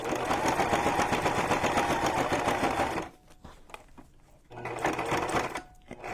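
A sewing machine stitches through a thick, layered junk journal cover with a loud continuous whirring drive that breaks off partway, leaves a few quiet clicks and rustles, then starts again.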